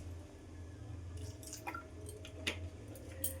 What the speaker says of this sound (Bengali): মধ্যে এবার আমি পরিমাণ মতন জল দিয়ে দিচ্ছি